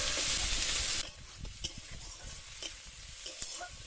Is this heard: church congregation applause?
no